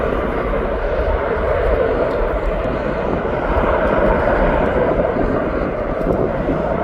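A passenger jet climbs out of East Midlands Airport, its engines a loud, sustained broadband roar that holds steady throughout at close range.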